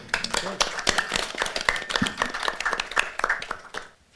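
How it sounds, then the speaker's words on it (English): An audience at a conference applauds a presenter, with dense, steady clapping from many hands close by that fades out near the end. "Round of applause for Paul"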